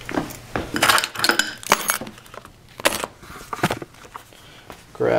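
A set of keys is picked up and jingles in a run of bright metallic clinks and rattles, close by and moderately loud, with brief quieter pauses between the bursts.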